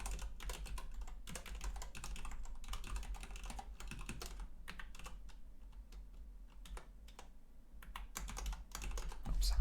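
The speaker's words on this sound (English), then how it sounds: "Oops, I'm a little bit slow when typing." Rapid typing on a computer keyboard in Dvorak layout, quick irregular key clicks in bursts with short pauses, close and fairly quiet over a low hum.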